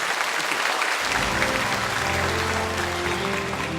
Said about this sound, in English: Round of applause one more time for Mr. David Gosset